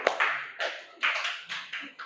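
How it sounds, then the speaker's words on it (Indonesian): A classroom of pupils claps for a classmate, a soft, scattered patter of hand claps in several short bursts heard from a distance. "tepuk tangan buat Abu"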